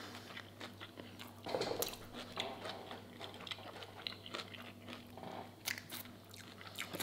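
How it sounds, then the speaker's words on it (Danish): A bite into a homemade burger comes as a soft, close crunch followed by quiet chewing and faint scraping over a low steady background hum. "Tag første bid her."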